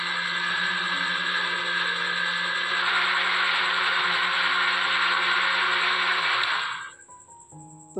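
A blender whirs steadily as it purées watermelon with milk into a smoothie, with no water added, running loud and continuous for several seconds before winding down and stopping near the end.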